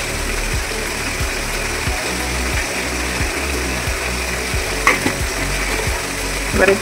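Chicken pieces for biryani sautéing in oil with spices and dry red chili powder, a steady dense sizzle with a rhythmic scrape of the spatula about every half second.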